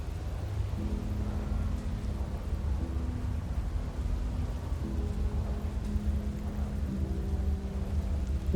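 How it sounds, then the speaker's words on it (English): Steady rain in the Slay the Princess video game, a constant soft hiss with a low, droning tone underneath that swells and fades at regular intervals. "It's raining. It wasn't raining last time, or the time before that."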